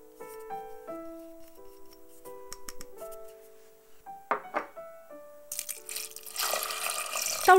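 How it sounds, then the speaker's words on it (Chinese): Water poured into a pot holding white rice and a little turmeric, a steady splashing rush in the last two seconds after a stretch of soft melodic background music. "倒入比平常焖饭再多一点的水约220克"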